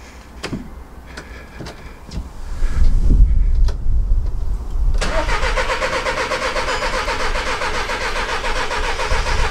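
A VW Caddy with an engine problem is cranked after priming the fuel: a few clicks and knocks, a couple of seconds of starter churning, then the engine catches and settles into a loud, steady rough idle close by.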